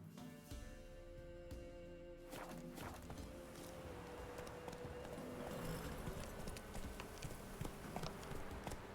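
The horse Roach clip-clops along at a steady walk in the video game The Witcher 3, quiet hoofbeats set under an ambient game soundscape with faint music.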